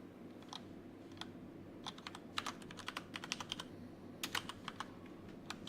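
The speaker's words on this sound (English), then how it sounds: "let's hope I typed it right" Typing on a computer keyboard while editing CSS code, with irregular bursts of clicky keystrokes, close and moderately quiet, running steadily over a low background hum.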